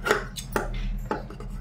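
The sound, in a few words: scissors cross-cutting gold coloured cloth for blouse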